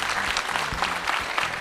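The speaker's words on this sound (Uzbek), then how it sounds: "bitta qarsak chiqarib qo'ydi." A short, steady burst of audience applause at a wedding-style show, dense clapping from a crowd throughout without a break.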